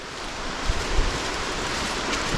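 Steady, broadband rushing of a waterfall along the Quehanna trail, a continuous dense roar with small surges and no voices.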